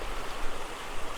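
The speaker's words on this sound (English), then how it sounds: "whether you'd call that a cascade or a waterfall, I'm not quite sure" A small waterfall cascade beside a hillside path near Small Water, a steady, close rush of falling water with no voices over it.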